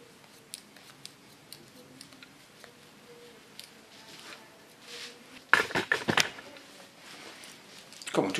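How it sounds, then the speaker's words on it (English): Hair-cutting scissors snip during a haircut, a few faint, soft clicks early on, then a cluster of louder, close crisp cuts toward the end. "Curve my scissor to the back"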